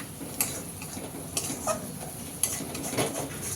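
Prawns are stirred with turmeric and chili powder in a pan for a Bengali prawn malai curry: scattered spoon scrapes and light clinks over a faint, low sizzle.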